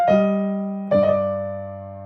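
A piano plays a two-note ornament from C. P. E. Bach's Solfeggietto: two clear, close tones struck about a second apart, each ringing on and slowly fading, with no talking.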